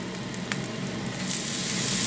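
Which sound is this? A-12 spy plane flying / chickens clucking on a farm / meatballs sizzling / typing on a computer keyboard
meatballs sizzling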